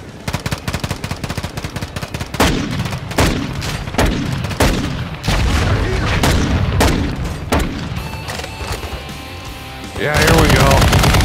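Call of Duty MW2 co-op gameplay: rapid bursts of automatic gunfire and single heavy shots crack repeatedly, loud and close, with booming impacts and a player's voice speaking over the action.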